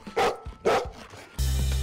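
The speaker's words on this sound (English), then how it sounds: "I have a one-year-old English cream golden retriever who is very destructive in the house and barks a lot." A one-year-old English cream golden retriever barks twice close by, loud sharp woofs about half a second apart, followed by a low steady hum.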